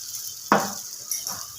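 Fried potatoes tipped into a pan of sizzling, cooked-down spice masala for a Bengali bhetki fish kalia, giving a sudden loud sizzle that fades, then a second smaller burst of frying.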